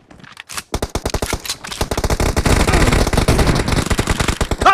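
An UZI submachine gun in a warehouse shooter video game fires short bursts that build into dense, rapid automatic fire, loud and close, with sharp repeated cracks throughout.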